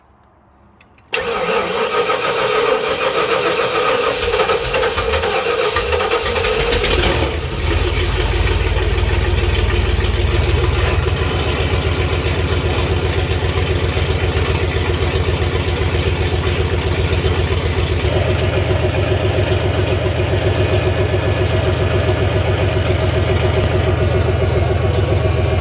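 A big block engine in a Ford Bronco cranks and fires, then settles into a loud, steady rumbling idle that keeps running close by for over twenty seconds.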